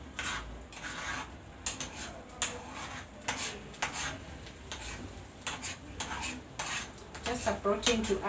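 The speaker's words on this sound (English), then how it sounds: "So I'm making like a scrambled egg." Scrambled egg cooks in a pan as a utensil repeatedly scrapes, stirs and clatters against the metal. The scraping comes in close, busy bursts over a faint sizzle, with no speech.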